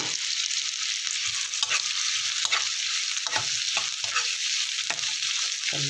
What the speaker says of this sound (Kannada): ಈರುಳ್ಳಿ ಹಾಕ್ಬಿಟ್ಟು